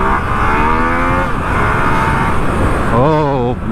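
A 2020 Yamaha MT-09 motorcycle engine pulls hard under acceleration, its whine climbing in pitch, easing, then surging again as the bike lifts into a wheelie. The engine is loud and close, with wind rush over it.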